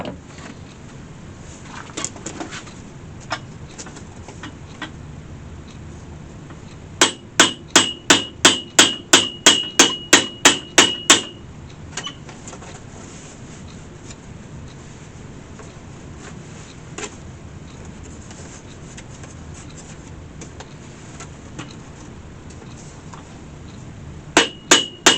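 Copper rivets hammered into an antique picnic basket under repair: two bursts of sharp, evenly spaced metallic taps, a run of about a dozen in the middle and a few more at the end, over quiet room noise.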